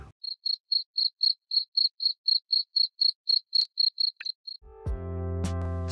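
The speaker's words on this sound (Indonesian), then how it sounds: "Yang terdengar hanya suara jangkrik, burung berkicau, dan keheningan." A single cricket chirps in a steady run of short, evenly spaced pulses in a very quiet place, then stops as a louder tonal sound takes over at the end.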